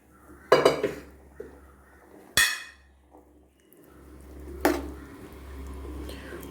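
Cooked chickpeas and their liquid tipped from a pressure cooker into a simmering gravy, with a few sharp metal clanks of pot and spoon and soft wet pouring between them.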